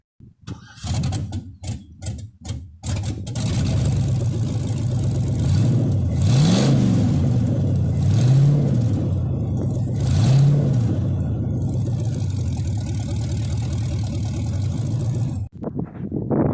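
A Jeep Grand Wagoneer with a swapped LS engine runs steadily for most of the clip with rising and falling revs, after a few short sputtering starts at the beginning, then cuts off abruptly.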